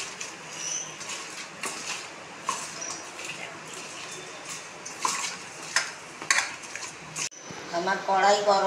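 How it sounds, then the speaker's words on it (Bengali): A metal kadai is set onto the stove to heat for frying hilsa fish, with scattered clinks and clatter of cookware in a kitchen, and a voice speaking briefly at the end. "এবার আমি কড়াইটা বসাচ্ছি, কড়াইটা গরম হোক"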